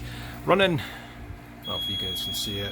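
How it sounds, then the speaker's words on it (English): A home brewing system's heater alarm gives a steady high electronic tone that starts partway through and holds, while someone talks nearby. "That's the alarm to let you know that it could possibly be turning it on."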